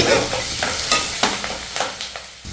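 Onions sauté in a pan for a home-cooked kuzhambu curry, with an even frying sizzle under repeated spatula scrapes and stirs, close and fairly loud, and no talking.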